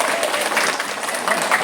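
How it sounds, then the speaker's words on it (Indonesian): A short burst of crowd applause at an Olylife plan presentation meeting in Pringsewu, brisk dense clapping from a room of attendees, steady from start to finish. "Tepuk tangan."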